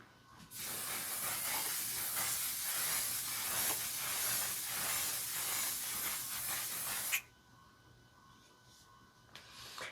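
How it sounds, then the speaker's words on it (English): A One Size On Till Dawn mattifying setting spray hisses in one long, steady burst of about six and a half seconds, close and fairly loud, then stops abruptly into quiet. "I'm using my Patrick Starr's One Size On Till Dawn Mattifying Spray."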